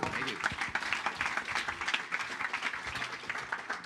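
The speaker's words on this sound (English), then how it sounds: "let's give a big round of applause for Ethan." Audience applause at a tech conference stage session, a steady wash of many hands clapping across the whole stretch, with some crowd voices mixed in.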